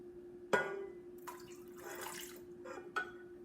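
Water poured into a mixer bowl during baking, a splashing, trickling pour with a few sharp drips and clinks, close and fairly quiet.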